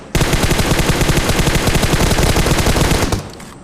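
Sustained automatic gunfire from a PUBG-style battle royale game, a rapid, loud, steady burst of shots lasting about three seconds before cutting off abruptly.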